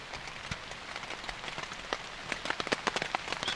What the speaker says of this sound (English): It's pouring rain. It's supposed to rain all morning.